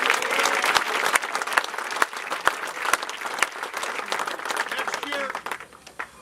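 Crowd applause at a 2014 tribute event for baseball figure Jim Fregosi, dense sustained clapping with sharp individual claps standing out, continuing for several seconds before tapering off near the end while voices are heard.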